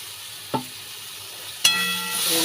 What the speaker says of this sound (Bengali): এটাকে নাড়িয়ে নেব।